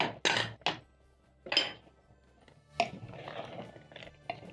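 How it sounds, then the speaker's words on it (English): A pressure cooker lid, opened after cooking beef for biryani, gives sharp metallic clanks and scrapes in separate bursts, then a rattling twist of metal on metal, close by with quiet gaps between. "I'm going to twist my lid and safely open my pressure cooker"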